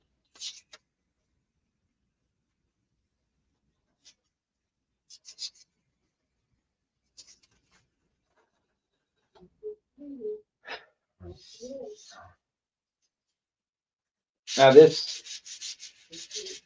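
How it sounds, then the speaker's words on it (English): Soft, intermittent scratchy rubbing of hand sanding on a surface, in short scattered strokes, with a brief spoken word near the end. "I love sanding."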